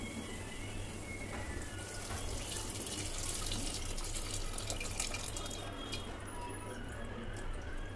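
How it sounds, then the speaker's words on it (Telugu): Tamarind juice is poured into a pot of tomato and chili pulusu, a steady, close, gurgling liquid stream that runs unbroken for the whole stretch with no voices. "చింతపండు రసం అయితే వేసేసాను"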